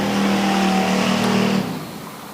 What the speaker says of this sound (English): Now that one's got a deeper throaty sound to it.